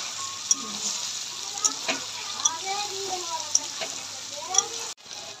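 Goat liver (pota kaleji) fries in a hot pan with a steady sizzle, punctuated by sharp metallic clicks of a spoon stirring every second or so; the sizzle cuts out abruptly near the end.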